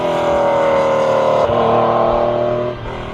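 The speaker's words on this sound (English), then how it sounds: "It's the noise of an unrestricted, well-tuned flat six letting rip through a free-flowing exhaust system." A loud Porsche 911 964 flat-six engine, tuned and straight-piped, revs hard and raspy, holding a high howling note before easing off toward the end.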